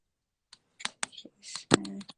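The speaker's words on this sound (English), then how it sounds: "so that we can know you're here while I'm typing this" A computer keyboard is typed on in quick, irregular bursts of sharp clicks, close and fairly loud, with a voice speaking briefly among the keystrokes.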